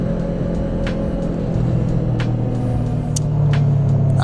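A QJMotor SRT450RX motorcycle cruises along a road at moderate speed, a steady low engine drone with rushing wind, constant and close, and faint clicks above it.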